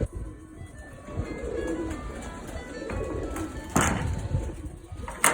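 Pigeons, including tumbler pigeons, coo in low, soft rolling calls, several birds close together, with rustling and a brief flutter of wings.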